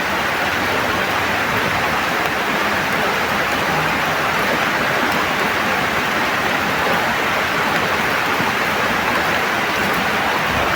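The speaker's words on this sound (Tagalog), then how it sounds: "Grabe yung ulan tol oh." Heavy rain pours steadily beside a creek, a dense, constant broadband hiss that stays loud and unbroken throughout with no voices.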